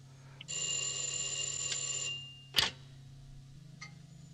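A telephone rings in a film scene: one long bell-like ring lasting about a second and a half, then a short sharp knock and a faint brief tone, fairly quiet with no talking.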